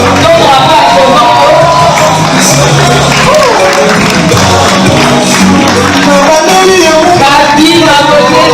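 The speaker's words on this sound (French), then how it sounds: "Applaudissez s'il vous plaît" Audience at a Congolese fashion and couture show in Kinshasa applauding and cheering, a loud continuous wash of clapping mixed with shouts and whoops, with voices in the crowd throughout.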